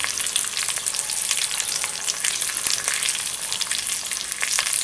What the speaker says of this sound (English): first thing I need to do is I need to get these ribs seared